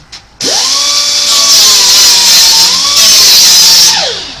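An 80-grit grinder spins up sharply, then holds a loud, close, buzzing whine while removing template tacks from a 1980 Chevy C30 fleetside truck bed being converted to a dually, before winding down at the end.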